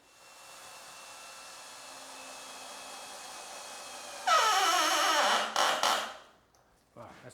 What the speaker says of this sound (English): Now I'll just drive a screw through the newel post to catch it.